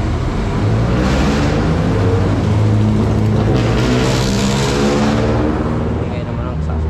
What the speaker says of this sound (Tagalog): Ingay naman ang sasakyan yun.